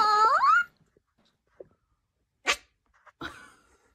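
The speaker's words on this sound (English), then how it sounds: "This kitten was raised by dogs and doesn't know how to meow," A kitten raised by dogs gives a few short, sharp bark-like yelps with quiet gaps between, the first a longer whiny cry, then two abrupt barks.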